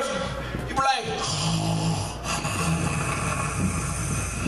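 A voice imitates a heavy person's labored breathing, a loud rasping, snore-like rumble drawn out in rough strokes for a few seconds during a stand-up comedy bit.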